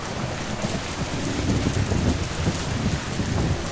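Heavy rain pours steadily and loudly throughout, with low rumbling that fits distant thunder and some wind buffeting the microphone; no voices are heard.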